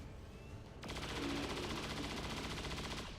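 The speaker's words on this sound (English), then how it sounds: "Keep shooting and reloading." Sustained automatic gunfire from XCOM 2 bursts in after a short quiet start, a loud rapid stream of shots that runs for a couple of seconds before cutting off.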